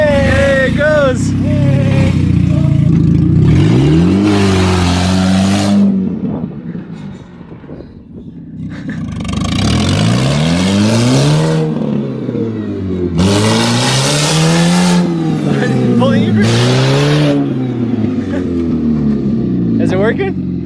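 A car engine revs hard and repeatedly while doing donuts, with a possible exhaust leak, rising and falling in loud close sweeps and cutting out between bursts, with people talking over it.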